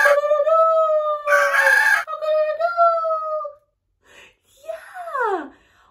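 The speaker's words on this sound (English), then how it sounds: "We're definitely going to have to see what a rooster sounds like." A loud, close rooster crow with a long drawn-out call, followed by a shorter squawking cry after a brief pause.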